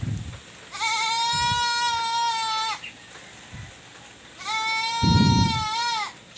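Goats bleating on a farm, two long loud wavering calls close by, separated by a pause, with soft low thumps and rustling between them.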